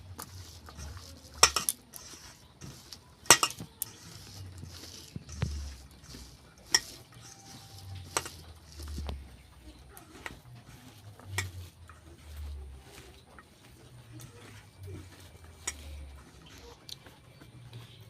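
Potato filling with garam masala and ground black pepper being mashed and mixed by hand, with soft squishing and patting plus scattered clinks of utensils against a bowl, close and fairly quiet, no talking.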